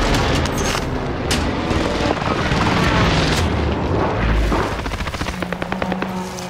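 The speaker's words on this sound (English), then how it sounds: "Precision airstrike." Precision airstrike explosions in the video game Call of Duty Modern Warfare (2019), a loud sustained barrage of booming blasts and rumble that breaks into rapid gunfire-like crackles toward the end.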